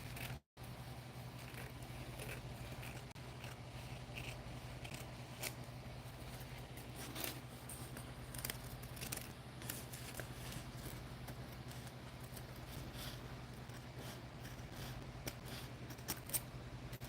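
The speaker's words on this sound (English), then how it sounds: "where are my scissors? Let's trim this out." Scissors trimming paper in an altered book, faint repeated snips and rustles spread across a quiet stretch over a low steady hum.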